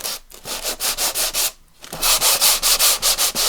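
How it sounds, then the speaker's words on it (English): Fine-grade sandpaper rubbed over wood to distress a homemade pizza box, giving loud, close rhythmic scratchy strokes in steady back-and-forth pulses with one short pause midway. "just distress it with some relatively fine grade sandpaper"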